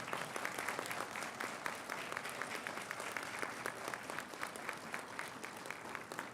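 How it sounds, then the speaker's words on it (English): A large commencement crowd at a fall college graduation applauds, a dense sustained roar of clapping from many hands, loud and continuous across the whole stretch. "Graduates, please show your appreciation with a round of applause for your supporters."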